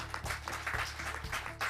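Applause from guests at a book launch during a Hindi poetry gathering, a moderate patter of hands clapping with uneven bursts and a low steady hum underneath.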